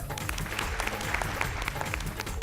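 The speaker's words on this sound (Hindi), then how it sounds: "और अब जोरदार तालियां हमारे महागुरु अरविंद जी के लिए" Studio audience on a TV show claps for guest mentor Arvind, a burst of dense, lively applause that holds steady throughout, fairly close with no talk over it.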